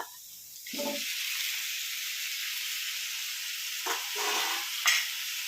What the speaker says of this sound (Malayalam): ശേഷം നമുക്ക് മുള്ളാത്ത അരിഞ്ഞതില്ലേ അതും അങ്ങ് ഇട്ട് കൊടുക്കുക.